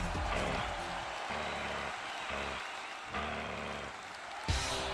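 A wrestling arena crowd roars and applauds as a wrestler makes his entrance, a dense continuous wash of cheering under pulsing entrance music.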